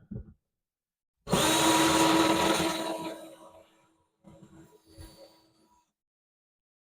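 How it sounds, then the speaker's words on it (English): A power drill pre-drills holes from inside a cabinet while drawer fronts go on during a Euro drawer slide install, giving one loud sustained whir of about three seconds that fades out, then a shorter, quieter burst. "I will take and pre-drill from inside the cabinet in each one of the corners"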